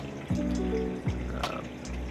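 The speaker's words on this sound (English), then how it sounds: "the water will go up underneath and through and then trickle over into, this is my skimmer" Water trickles and splashes through a saltwater aquarium sump into a Curve 7 protein skimmer, a close, gentle liquid flow with soft gurgles and occasional droplet plinks over a low pump hum.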